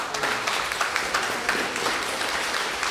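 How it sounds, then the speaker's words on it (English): An audience at a Poor People's Campaign summit at Laney College gives steady, moderately loud applause, a dense wash of clapping that continues evenly from start to finish. "I want y'all to give yourselves a round of applause as well"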